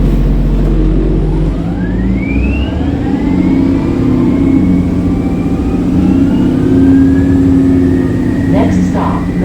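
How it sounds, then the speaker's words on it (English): A TTC Orion VII NG hybrid bus pulls away from a stop in Toronto, its hybrid drive whirring in rising and falling tones over the steady drone of the engine, loud and close throughout, with a voice talking over it. "This bus makes a nice sound during takeoff when the hybrid system whirs and the engine takes over"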